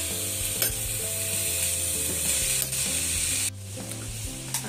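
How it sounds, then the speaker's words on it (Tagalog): Vegetables stir-fried with soy sauce, a dense loud sizzle broken by clanks of a utensil against the pan and a sudden drop in level near the end, with no voices. "At ayan, lalagyan naman ng toyo. Siyempre, ang palasa yung toyo. And mix again."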